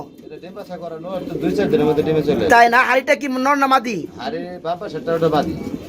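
Pigeons coo softly beneath a conversation between two people talking close by, the birds' low murmurs mostly buried under the voices.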